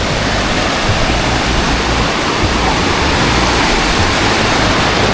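Broadband surf roar from waves washing onto a beach in Cornwall where surfers and paddle boarders are out, a steady continuous wash with no talk over it.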